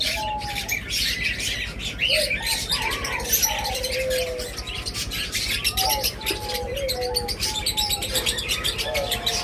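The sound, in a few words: pair of split ino pet birds chirping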